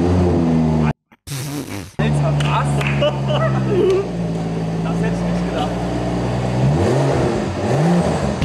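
A Rolls-Royce engine is started with its exhaust flaps open, then revved and held at a loud, deep drone, with a short gap before it fires and a rising rev near the end; people talk briefly over it.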